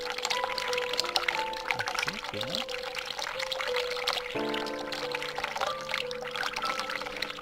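Water pours steadily to fill a container in the video game The Cat Lady, a continuous splashing trickle with shifting tones as it fills, heard under a man's speech.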